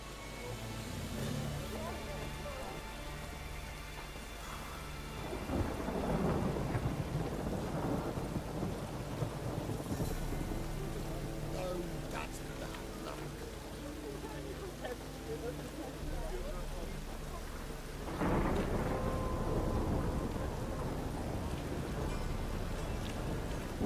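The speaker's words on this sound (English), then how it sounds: "A storm, damn it." Thunderstorm with rain in The Witcher 3, steady rainfall under two loud rolling thunder crashes, the second one hitting near the end. Voices speak faintly over the storm.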